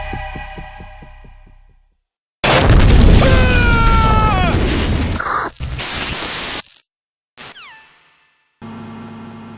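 A loud, roaring explosion in Metal Gear Solid 2: Sons of Liberty, a sustained blast that rumbles for several seconds with whining tones over it, then cuts off into brief quieter bursts.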